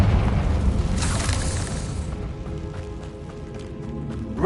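A Confringo blast spell goes off in the video game Hogwarts Legacy, a loud booming burst with a crackling rush that swells and then fades under a steady game backdrop.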